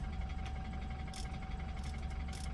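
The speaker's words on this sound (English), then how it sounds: "the engine is smoothing out" Engine of a 2013 BMW 328xi or 2013 Nissan Armada Platinum idling smoothly at an auction yard, a faint, steady low rumble with a thin whine and no talk.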